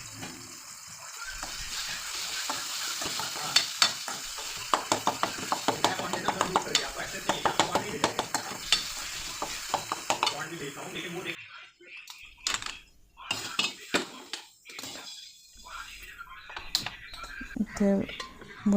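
Bharit, a mashed vegetable dish seasoned with garlic, chili, coriander and salt, is stirred in a pan with rapid, close scraping clicks that later thin into sparser knocks, while a voice talks over it.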